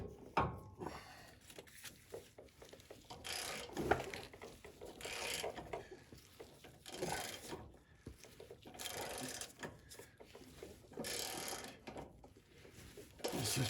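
A right-hand No. 2 lower control arm bushing is pressed into the frame of a 100 series Toyota Land Cruiser: close, repeated mechanical creaking and ratcheting bursts in an uneven rhythm, with no talk.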